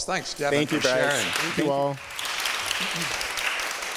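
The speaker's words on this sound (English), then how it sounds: "Well, let's give him another round of applause." An audience at a Sunday community forum breaks into applause that carries on evenly to the end, after a speaker briefly offers thanks.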